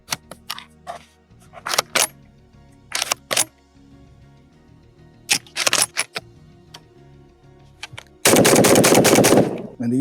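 A Panzer M4 shotgun fires underpowered Federal shells, giving sharp, loud reports in close clusters separated by brief pauses. A dense, sustained blast of noise fills the final two seconds.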